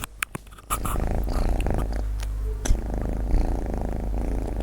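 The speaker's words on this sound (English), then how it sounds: "the cute little kitty cat who's purring like crazy. Listen to this purr." A cat purring loudly and steadily up close, a continuous low rumbling vibration with a few brief clicks at the start.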